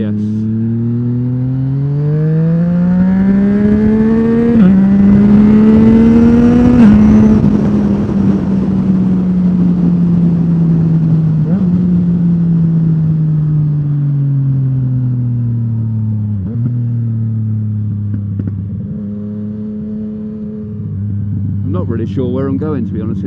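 Yamaha MT-09 motorcycle engine on a ride, a close steady drone that rises and falls through gear changes and throttle shifts, heard under continuous talking.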